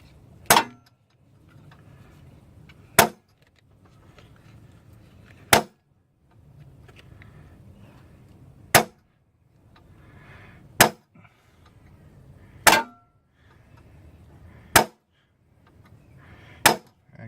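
A hand center punch is struck against a broken easy out stuck in a snapped exhaust stud on a 300ZX, giving eight sharp metallic clangs spaced a couple of seconds apart, loud and close, with only a faint workshop murmur in the gaps.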